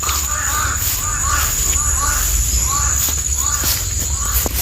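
Several harsh crow caws repeat at a steady pace over constant outdoor background noise, with insects buzzing faintly high above.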